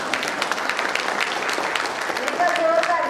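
An audience at a school alumni get-together applauds its teachers, with dense steady clapping throughout and a voice talking over it.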